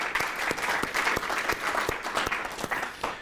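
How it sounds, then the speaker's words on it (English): Conference audience at an agribusiness grain symposium claps steadily, a dense, even patter of many hands from a medium-sized crowd lasting several seconds, with no voices over it. "Let's give them a round of applause."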